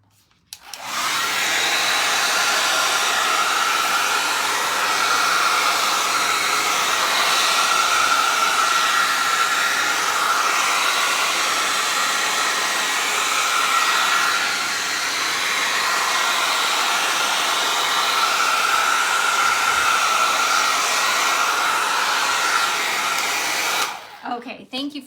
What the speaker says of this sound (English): Let me shoot this with a hairdryer really quick.